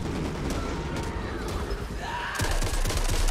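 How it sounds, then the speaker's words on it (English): Gunfire in the Back 4 Blood video game comes as a dense string of sharp, rapid shots over a constant noisy battle backdrop, and the shooting grows louder and busier toward the end. "I can still shoot him though"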